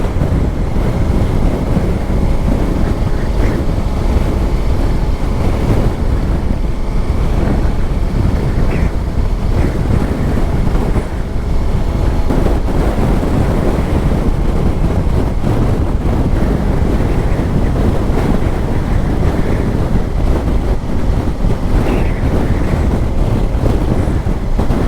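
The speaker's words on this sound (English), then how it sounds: "Fucking wind, man." Strong wind roars steadily across the microphone throughout a motorcycle ride in Spain, a dense, buffeting rush with no pauses.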